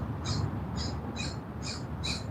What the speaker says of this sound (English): That bird is still doing it.